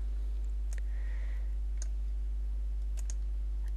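Computer mouse clicks on a software button, a few sharp, faint ticks spaced irregularly over a steady electrical hum.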